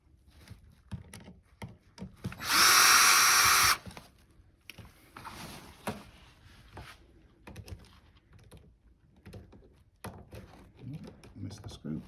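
Screws on a runner seat frame are undone with a power driver in a single loud whirring burst of about a second, then quieter handling and clicks follow while a voice talks nearby.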